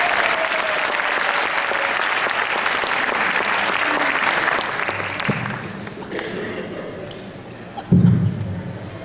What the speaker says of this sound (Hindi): एक बार जगबीर राठी का स्वागत करें जोरदार तालियों के साथ